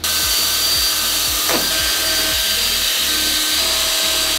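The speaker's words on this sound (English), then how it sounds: "Now we're gonna drill a hole into the brace," A loud, continuous drill grinds close up with a rough, rhythmic chatter as the bit bores a hole into a PVC gate brace, steady throughout.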